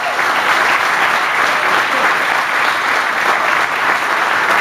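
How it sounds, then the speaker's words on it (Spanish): Diners at a company year-end dinner applaud loudly and continuously, a thick even wash of clapping from a crowd that holds steady throughout with no voices standing out. "Más fuerte ese aplauso de arriba"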